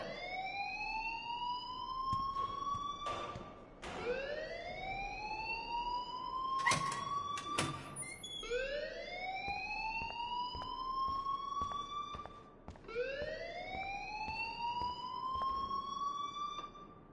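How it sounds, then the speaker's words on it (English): A school alarm in the video game Life is Strange wails in repeated rising siren sweeps, each lasting about four seconds, steady and fairly faint with no one speaking. "please turn off that alarm since that's your job"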